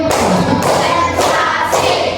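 Group of people clapping together in a counted rhythm during a classroom warm-up, steady close thumping claps filling the room with a few breaks between beats.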